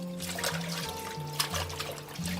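Vegetables being washed clean in water after soaking in baking soda, a moderate trickle and splash of running water with hand movements, close and continuous, no voices.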